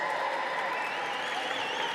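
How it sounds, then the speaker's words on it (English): Gala audience applauding, a steady, even patter of many hands clapping with a faint murmur of crowd voices underneath, sustained at constant loudness. "Barbara Marcus, you can applaud because I like everybody."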